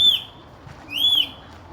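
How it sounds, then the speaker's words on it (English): Parrot calling in a nature park, two clear high whistled calls about a second apart, each a rising then falling sweep, loud against a quiet background with no talk. "Parrot singing."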